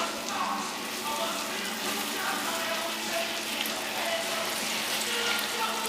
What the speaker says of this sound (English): now I'm just going to put the short ribs in